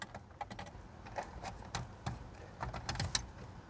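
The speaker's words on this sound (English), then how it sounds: "we're gonna use our stereo removal keys and we'll insert them" Stereo removal keys slide into the head unit slots of a 2017–2018 Porsche Macan with PCM 4.0, giving a series of light, close metallic clicks and taps at an irregular pace.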